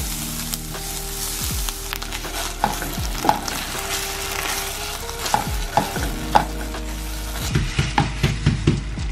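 Minced shallot and garlic sizzle steadily in a hot skillet for a spicy vodka-style pasta sauce, while a spoon scrapes and stirs in repeated sweeps and occasional clinks against the pan, close and continuous with no talking.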